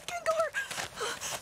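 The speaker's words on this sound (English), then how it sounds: "Dude, why are you breathing like that?" Someone breathes heavily and theatrically in a close, voiced rush of gasps and moaning exhales, several quick breaths in a row.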